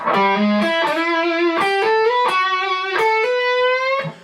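A distorted lead guitar lick from a song, a run of sustained, bent notes stepping upward with clear picked attacks, loud and alone.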